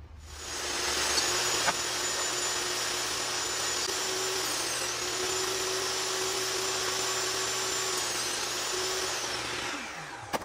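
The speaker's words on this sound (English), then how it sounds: "I'm going to run them through the table saw and make sure they're all 5 inches thick" A table saw spins up and rips through wood boards in one long, loud, steady high whine lasting about eight seconds, then winds down at the end, with no talk.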